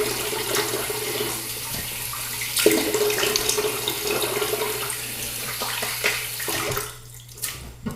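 A double-edge safety razor, a Gillette Goodwill, is rinsed under a running tap: a steady close rush of water into a sink for several seconds, with brief splashy changes as the blade moves through the stream, then the flow tapers off near the end.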